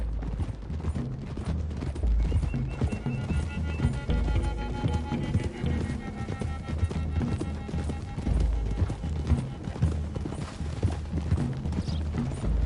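Horses gallop in Red Dead Redemption 2, a dense, continuous clatter of hooves with occasional neighs under a steady rumble, fairly loud throughout.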